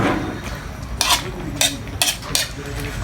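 Chicken fillet with potatoes and vegetables is stirred in a pan, with a handful of sharp utensil scrapes and clinks over a soft background simmer and no talking.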